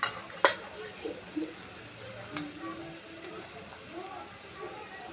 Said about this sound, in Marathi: कांदा मसाला मस्त फ्राय झाला।